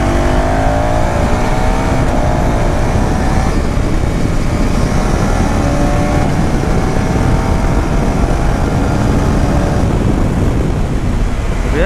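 A 2026 KTM Duke 390 motorcycle accelerating hard along a road toward top speed, its loud, close engine rising steadily in pitch with continuous wind roar throughout.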